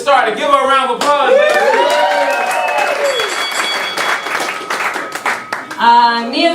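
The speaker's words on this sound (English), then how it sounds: "Give her a round of applause" A comedy club audience at a roast battle claps and cheers continuously, a steady wash of applause with whoops, while a host speaks loudly over it at the start and again at the end.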